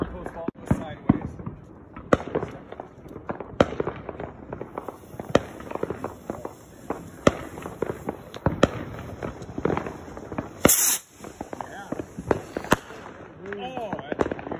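July 4 fireworks, loud sharp bangs and crackling firecrackers going off in rapid irregular succession nearby, with people talking and calling out between the blasts.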